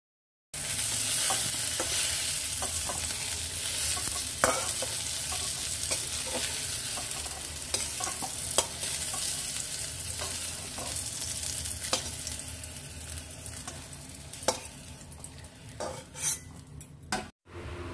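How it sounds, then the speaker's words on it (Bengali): Okra frying in hot oil in a wok, a steady close sizzle running throughout with scraping and clinking of a spatula as it is stirred, no voices. "কড়াইতে যেটুকু তেল আছে তার মধ্যে ভেন্ডিগুলো দিয়ে বেশ কিছুক্ষণ নাড়াচাড়া করে ফ্রাই করে নেব।"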